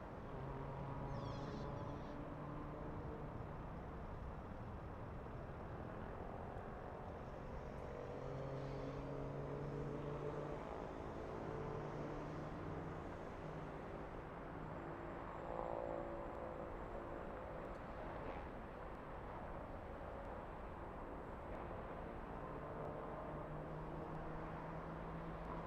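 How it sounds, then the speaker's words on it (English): A Delta Boeing 767 airliner bound for Honolulu at LAX gives off a faint, steady jet roar that swells slightly as it moves, with distant traffic-like rumble underneath and no talk. "All right, 767 to Honolulu."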